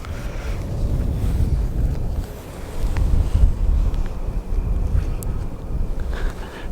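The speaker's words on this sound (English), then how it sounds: "We have a wind here that's really at our backs at the moment" Strong, gusty wind roars and buffets against the microphone outdoors at the Defenders of the Arctic monument in Murmansk, a loud, continuous low rumble that swells and eases with the gusts.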